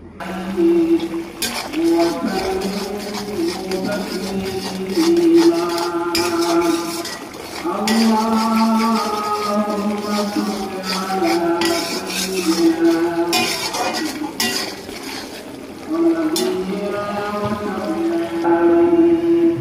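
A spoon scrapes and clinks against a cooking pot as spicy mutton bhuna in large pieces is stirred, with repeated rhythmic scraping strokes close up and a steady background hum.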